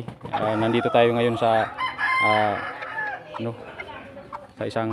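A bantam rooster crows loudly nearby in several harmonic bursts, and someone talks over and between the crows.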